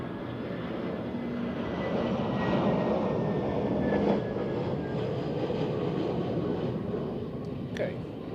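A Vueling airliner lands at Zurich in a gusty crosswind, its engines a continuous rushing drone with a faint high whine, and a voice can be heard briefly over the noise.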